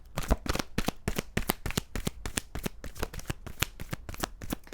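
A deck of tarot cards is shuffled in a steady run of quick, crisp riffles and slaps, close and clear with no talk over it.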